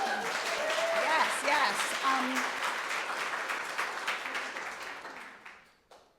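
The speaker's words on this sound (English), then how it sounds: "Can we do a round of applause for them first?" Audience applause for the authors at a book event, with steady clapping that begins under some voices and tapers off into near silence.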